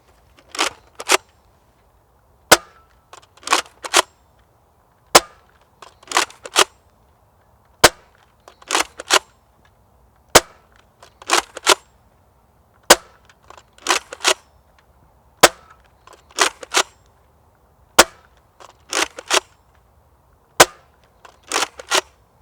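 Apollo gun firing HeadShot high impact rounds, a long series of sharp, loud cracking shots, mostly in quick pairs or triplets separated by short pauses, crisp and isolated with no talking.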